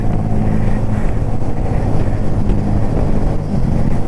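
A Royal Enfield Meteor 350 motorcycle riding off-road on a temple trail, its exhaust giving a steady, loud, rumbling drone throughout, with no talking.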